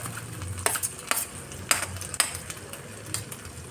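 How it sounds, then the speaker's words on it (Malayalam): Ginger hitting hot oil for a prawn dish, with a steady soft sizzle under repeated sharp scrapes and clinks of a utensil stirring in the pan, close and fairly quiet. "അപ്പോൾ എണ്ണ ചൂടായിട്ട് വന്നിട്ടുണ്ട്. അപ്പോൾ അതിനകത്തേക്ക് ആദ്യം ഞാൻ ചേർക്കുന്ന ഇഞ്ചിയാണ്."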